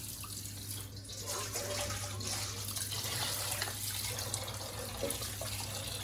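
Steady rush of running tap water splashing into a sink as a large fish is washed, continuous and close, with faint handling sounds and no speech.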